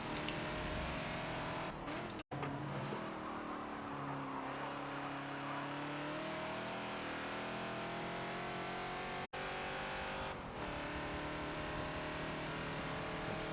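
Ford Falcon XB race car in the Forza video game at Road America, a continuous loud engine roar with shifting pitch as it accelerates and lifts, along with two abrupt cut-outs and other traffic.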